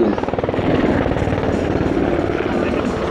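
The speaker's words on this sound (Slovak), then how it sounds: "otáča vrtuľník doľava s následným postupným sklesaním o 360 stupňov pred stred dráhy" A Slovak Air Force UH-60M Black Hawk helicopter flying a dynamic display manoeuvre at an air show, its rotor beating in a steady rapid chop with a loud engine roar, close and continuous throughout.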